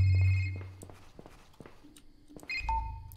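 A phone rings with an incoming call in a horror video game, a short electronic ring repeating twice with a quiet gap between, close and moderately loud over low rumbling game ambience.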